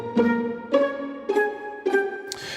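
Small orchestral string samples play a violin melody as four evenly spaced, short, moderately loud plucked-sounding notes, each decaying before the next, then a brief noisy burst.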